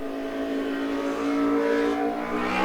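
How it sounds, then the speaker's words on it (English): A car revs its engine in a steady, rising whine as it drives fast, loud and close, with no voices over it. "Thank you, car. Very cool, very fast."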